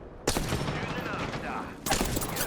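Automatic weapon fire in the Apex Legends video game, a dense continuous burst of rapid shots that fills the clip, with a brief lull before a second loud burst starts near the end.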